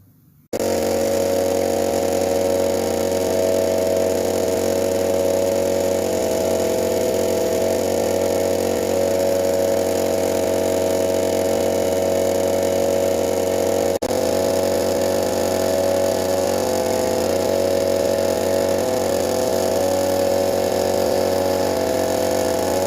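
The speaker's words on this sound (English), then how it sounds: "Just have to start the compressor and mix the paint." An air compressor, started up before spray painting during a Nissan 1400 Sport restoration, runs with a steady, loud mechanical hum and drone for over twenty seconds, nearby and without talk.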